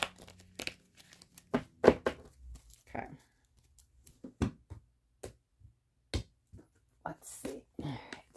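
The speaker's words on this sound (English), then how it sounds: "Let's get it one more shuffle." Soft riffling and snapping of tarot cards being shuffled in quick bursts, close up, with a quiet voice speaking briefly between them.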